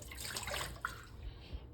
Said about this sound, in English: Let me dump out just a little bit more of this water.